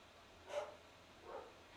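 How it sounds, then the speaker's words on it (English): A dog barks twice in a backyard, faint and distant, with two brief separated barks against quiet background noise. "My dog is barking right now."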